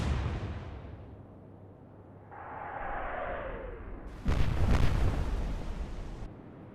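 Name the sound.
naval guns firing in the video game Atlantic Fleet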